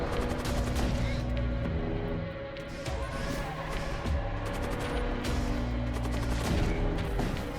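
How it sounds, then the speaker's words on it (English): Heavy shellfire pounds enemy ships in the space combat game Void War, with repeated booming impacts and rattling bursts layered densely over game music. "And then we keep pounding them with the shellfire"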